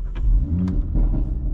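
An Audi RS3 with a 515 bhp engine starts up with a deep rumble and then blips its revs in short bursts, loud and close, with no talking.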